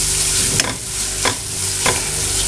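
Tomato masala seasoned with pepper powder is stirred in a hot pan. A loud continuous sizzle is broken by three sharp scraping strokes.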